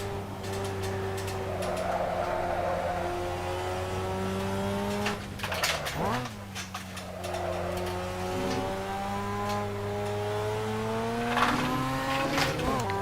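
A Mazda RX-7 race car on the Nordschleife in a racing simulation revs steadily with bright harmonic engine tones, dipping briefly as it shifts or brakes with a short tire squeal, then climbing again.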